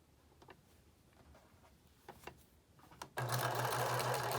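Sewing machine stitching elastic tucks on a pleated garment, starting after a few soft handling clicks and then running loud and steady in a continuous close whir to the end.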